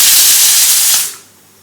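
Steam hisses loudly and continuously from a pressure cooker's whistle vent, then cuts off abruptly, leaving near silence.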